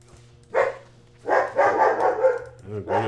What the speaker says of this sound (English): Oh goodness, the doggy's going off.